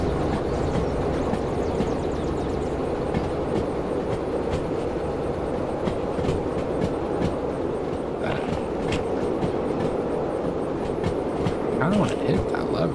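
A train runs steadily in the video game Derail Valley, a continuous loud rumble with faint rhythmic clatter and scattered clicks throughout.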